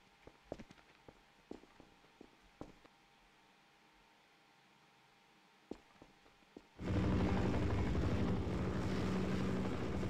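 In the video game Half-Life, quiet footsteps and scattered thuds give way to a helicopter that suddenly roars in close and loud, a dense, steady rotor-and-engine din that keeps going to the end.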